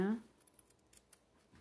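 A pair of worn scissors snips ribbon while making a bow, giving a few quiet, crisp cuts in a loose rhythm after a brief voice at the start.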